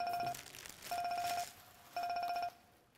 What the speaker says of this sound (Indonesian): Teleponnya bunyi, Bang.